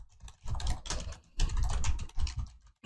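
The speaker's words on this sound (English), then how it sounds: "you can also alternatively type like this" Bursts of rapid clicking from typing on a computer keyboard, close and fairly loud, in several short runs separated by brief pauses.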